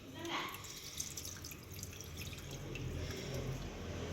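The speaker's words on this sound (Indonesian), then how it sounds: "ditiris lagi, dibuang air yang kotor tadi" Dirty rinse water drains off washed rice being prepared for steaming, with a soft, close splashing and trickling pour that swells toward the end, while a person speaks.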